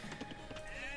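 A sheep bleats in the video game Rome at War, a short, faint wavering cry over quiet game background.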